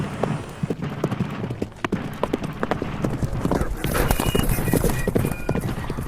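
Horse hooves clip-clop in a steady rhythm, staging Paul Revere's midnight ride, with a faint whinny and background sound layered over the quick, close hoofbeats.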